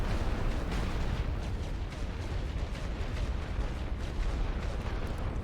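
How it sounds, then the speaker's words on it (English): Artillery fires in the First World War strategy game The Great War: Western Front at Arras, a dense continuous rumble of distant booms and blasts with no pauses, heavy and sustained throughout. "We see their artillery firing here."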